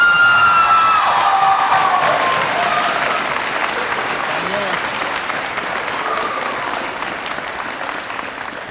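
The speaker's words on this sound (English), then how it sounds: "Let's give our students another round of applause." Audience at a high school honors night applauds and cheers for students, sustained clapping with scattered whoops that gradually eases, starting right after a voice over the hall speakers.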